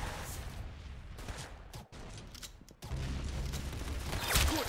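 Gunfire in the Roblox shooter Arsenal, a dense burst of rapid shots and clattering mechanical clicks running near continuously, with a brief gap before a louder volley at the end.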